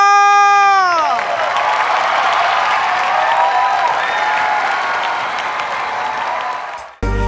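Studio audience applauding on the Thai singing competition The Mask Singer, a dense sustained clatter of clapping with some cheering, following a held sung note that fades out at the start, then ending abruptly.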